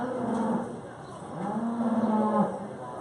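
A Holstein dairy cow at a county 4-H fair dairy show lets out two long, low moos a second apart in a large show barn, with steady background hum and no talk.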